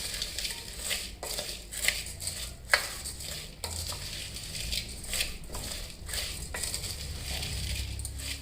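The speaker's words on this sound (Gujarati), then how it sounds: "હવે આ બધી સામગ્રીને સારી રીતે મિક્સ કરી લઈશું." Raw mango, onion and spices being stirred together for a kachumber salad, giving steady crunchy, wet rustling and scraping with occasional sharper clicks of a spoon against the bowl, close and without talk.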